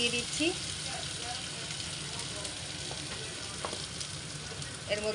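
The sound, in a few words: ginger and cumin paste frying in pan for mango fish curry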